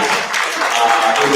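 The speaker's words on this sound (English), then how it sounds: "Want to give them a round of applause." Audience applause at a wealth and politics summit with a mayoral candidates forum, a steady wash of clapping from a crowd filling the room at even loudness throughout.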